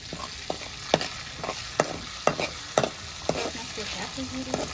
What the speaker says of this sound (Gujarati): આદુ લસણની પેસ્ટ નાખવાનું છે થોડીક આદુ લસણની પેસ્ટ